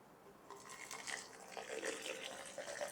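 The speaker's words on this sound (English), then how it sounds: "We got our boiling water here, so I'm just going to pour this in here." Boiling water is poured into a glass infuser bottle with silicone seals, a faint, uneven trickle and splash running for a few seconds.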